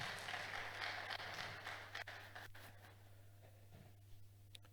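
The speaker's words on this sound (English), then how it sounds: "Can we please give him another resounding round of applause?" Applause from a conference audience at a cybersecurity event in Nigeria, dense clapping that starts fairly loud and gradually thins and fades over several seconds.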